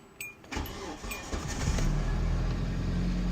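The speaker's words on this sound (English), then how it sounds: "So I'm going to start the car." A 2004 Hyundai Elantra with a cold engine cranks briefly, catches and settles into a steady low idle, the running engine growing fuller as it continues.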